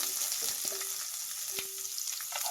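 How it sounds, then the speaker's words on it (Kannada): Cloves, cumin, peppercorns and onions frying in hot oil for a dhaba-style paneer masala, a steady quiet sizzle with a few soft utensil taps and no talk. "ಇದನ್ನು ಫ್ರೈ ಮಾಡಿ. ಈರುಳ್ಳಿ ಹಾಕ್ತಾ ಇದ್ದೀನಿ."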